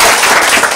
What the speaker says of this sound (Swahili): Mpige makofi Shari.